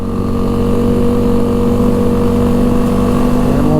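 A 2005 Honda Rincon 650 4x4 ATV engine drones steadily and close up while shifting into third gear, its tone holding even and loud throughout.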